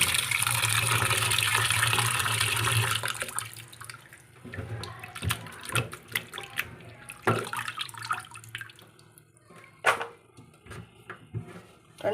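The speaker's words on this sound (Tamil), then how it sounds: "தண்ணி நல்லா வச்சுட்டு இதை கழுவி எடுத்துக்கோங்க" Potatoes being washed for a crispy French fry recipe, with water running steadily at first, then sloshing, dripping and splashing in irregular bursts close by in a kitchen sink.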